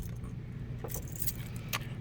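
Car keys jangle briefly for a 2003 Porsche 911 996-generation six-speed manual convertible, a few light metallic rattles over a steady low engine or cabin hum.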